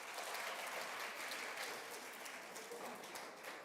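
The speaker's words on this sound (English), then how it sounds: "But even though you're clapping" A youth audience at a conversation with the president applauds in a dense, continuous wash of many hands, loud and even throughout with no talk over it.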